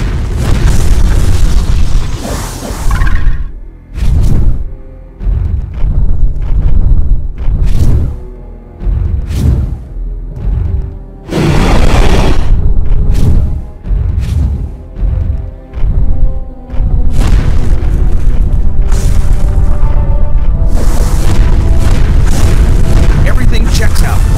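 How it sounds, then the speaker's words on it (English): Repeated heavy booms and bursts from Dino Blast shots destroying targets in the Power Rangers Dino Thunder game on PS2 and GameCube, loud and close, firing in irregular rapid clusters over a constant backdrop of game music and sound effects. "Use your Dino Blast to destroy all of the targets."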